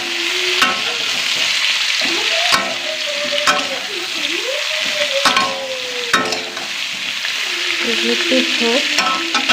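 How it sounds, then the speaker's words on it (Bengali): Boiled cauliflower frying with cumin in a pan, a steady sizzle broken by sharp spoon scrapes as it is stirred, with a wavering tonal squeal running underneath, close and without speech. "তারপরে এই ফুলকপি সিদ্ধগুলো দিয়ে দিতে হবে। তারপরে নাড়তে হবে ভালো করে।"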